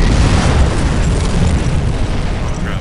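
A rocket explosion in the video game Iron Grip: Warlord makes a loud, dense, sustained roar of blast and rumble lasting a few seconds, with no voices.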